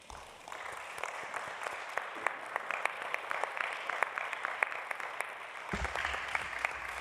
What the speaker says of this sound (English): please give RD and the Secretariat a big hand and round of applause